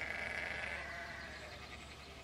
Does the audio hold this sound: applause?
no